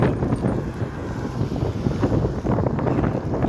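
Loud wind on a bridge buffets the microphone in rough, continuous gusts during a bike ride, with a low rumbling roar throughout.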